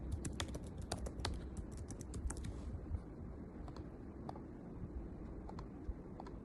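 Close, soft keyboard typing of a confirmation password, a dense burst of rapid key clicks, then a pause and a few sparser taps, over low room hum with no talking.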